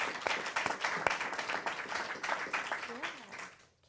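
An audience applauds in a steady patter of many hands after an interview on a live tech show. Voices talk over the clapping, and it fades out at the end.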